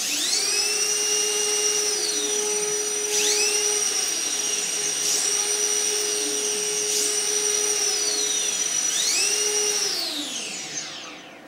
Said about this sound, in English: This can also be useful for maintaining orientation, which I'll demonstrate by pitching and rolling the aircraft.